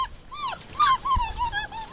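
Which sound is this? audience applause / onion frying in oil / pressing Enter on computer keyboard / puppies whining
puppies whining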